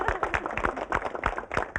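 Audience clapping for a doctor on a television talk show, distinct close claps in a quick uneven rhythm, fairly quiet, with a studio crowd behind.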